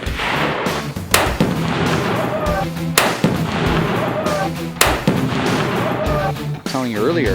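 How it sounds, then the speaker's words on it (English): An SKS rifle fires about four sharp, loud shots spaced a second or two apart, with people talking between them. "when there's gunfire like that?"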